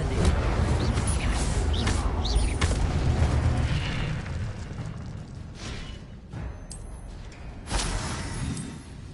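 Fiery spell blasts in the Hogwarts Legacy video game: a dense, roaring low rumble with repeated booming bursts and crackling impacts, loud and continuous, with brief swells and distant sounding hits over several seconds.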